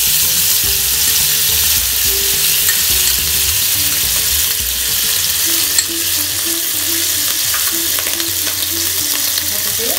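Cinnamon bark and dried prawns frying in hot oil for claypot chicken rice, a loud, dense, unbroken sizzle and crackle held steady throughout, with a single faint clink midway and no voices.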